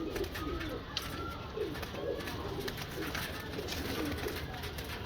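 Low, throaty pigeon coos repeat steadily from birds in a small breeder setup of about six pairs, heard fairly close against a constant background hiss, with voices murmuring faintly beneath.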